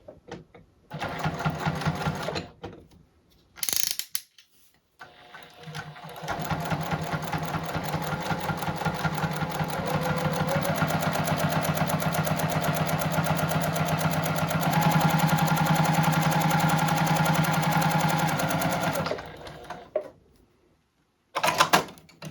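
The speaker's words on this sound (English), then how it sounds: "I'm going to top stitch them down using the edge of the presser foot as my guide." A JUKI sewing machine top stitches a holiday lawn banner, running in a steady, close mechanical whir for most of the stretch after a couple of short starts, then stopping.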